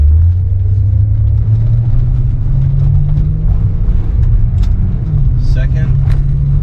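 A VR6 car with a freshly repaired transmission accelerates in first gear, a deep continuous engine rumble rising in pitch, recorded from inside with faint background noise.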